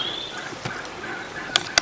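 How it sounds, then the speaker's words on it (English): Wild turkeys gobble outdoors at moderate distance, a couple of quick sharp bursts standing out near the end over a faint high whistle-like call and quiet background. "I see the turkeys though."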